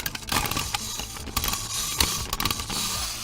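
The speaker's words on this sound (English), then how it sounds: "Lefty has whirring sound effects as heard here" Lefty, an animatronic from the video game FNAF, makes dense mechanical whirring mixed with clicks and creaks, continuous and busy throughout at moderate loudness.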